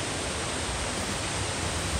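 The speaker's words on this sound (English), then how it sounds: "That's a big waterfall." Big waterfall at Florence Creek in the Sierra Nevada, a steady full roar of falling water close by, continuous and alone.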